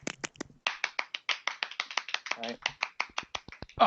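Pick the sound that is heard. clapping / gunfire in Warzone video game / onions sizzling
clapping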